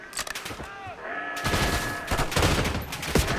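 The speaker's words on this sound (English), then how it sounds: "Level it with a mortar strike." A mortar strike in the Call of Duty: Black Ops 6 campaign, heavy booming blasts and rolling gunfire building in intensity, with radio-style voices and effects mixed in.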